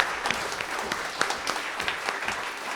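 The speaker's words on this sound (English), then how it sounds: "please a huge round of applause for the customer service team" An audience at a festival concert applauds the customer service team, sustained clapping from a crowd with scattered sharper claps, continuous and fairly even throughout.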